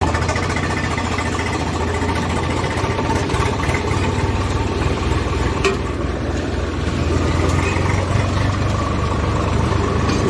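Generator engine running on a farm, a loud, close, steady low-pitched mechanical drone with constant rhythmic chugging and no pauses.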